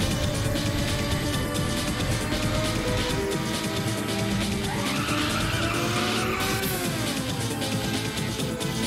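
Race car in a racing video game, a loud constant engine drone with sustained tire skidding and squeal, pitch sweeping through the middle, no voices.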